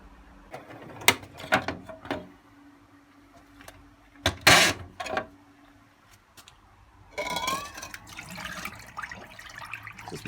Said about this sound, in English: It seems to just be tumbling, agitating one way and then the other.